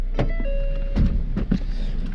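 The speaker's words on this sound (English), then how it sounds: "that truck sounds good. It's quiet and just comes right along" An old truck's engine runs quietly at a steady low hum, with a few soft thumps and a faint thin whine riding over it.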